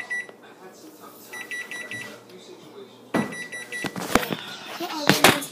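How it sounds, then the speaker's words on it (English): A faint electronic oven timer beeping repeats in short bursts in a kitchen, followed by louder clatter and handling noises close by. "the oven is now beeping"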